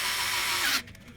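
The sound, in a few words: pilot drill bit drilling into wood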